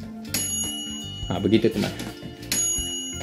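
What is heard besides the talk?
Xiaomi Onemoon air fryer timer bell ringing when cooking finishes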